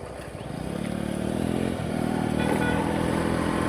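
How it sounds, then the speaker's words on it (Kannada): Motorcycle engine being ridden and shifted from second into third gear with the clutch: a close, steady engine drone that dips briefly at the shift, then picks back up and holds. "ಸೆಕೆಂಡ್ ಗೇರ್ ರೇಸ್ ಬಿಡ್ತು, ಥರ್ಡ್ ಕ್ಲಚ್ ಹಿಡಿದು ಹಾಕ್ತೀನಿ"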